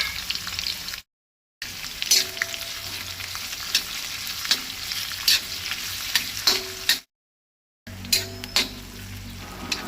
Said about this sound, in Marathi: 2 कांदे घालता मिडियम सायज उबे चिरून।